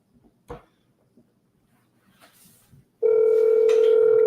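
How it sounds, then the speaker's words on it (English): A steady telephone tone sounds loudly after a few faint clicks and rustles, continuing unbroken to the end. "Okay, it's ringing."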